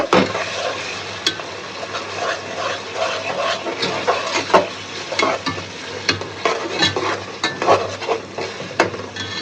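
Biryani spice paste fries in a pot with sizzling, while a spoon repeatedly scrapes and clatters against the metal in irregular stirring strokes, close up.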